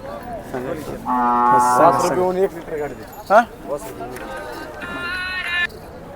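A Khillar cow lets out several long, close moos, one after another, at a cattle market, with a person talking in between.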